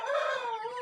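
Poultry including chicks call in a dense, continuous chorus of overlapping clucks and cheeps, close and fairly loud, with no voices over it.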